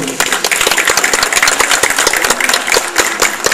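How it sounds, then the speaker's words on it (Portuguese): Audience clapping for Luciano during a lecture with a para-athlete, a steady burst of many hands close by, dense and even for about three and a half seconds. "Salva de palmas aqui para o Luciano, por favor"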